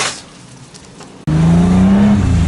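An old Ford Falcon drift car pulls away, its engine suddenly roaring into a loud, close, sustained rev after a quiet moment of low rumble.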